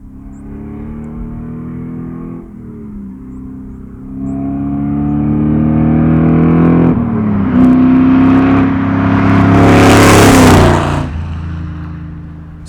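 An LS-swapped 1971 Chevrolet Nova, rated at 650 horsepower with an LSA engine, idles with a deep harmonic rumble, then revs up in rising and falling sweeps, its loudest rev near the end before settling back down.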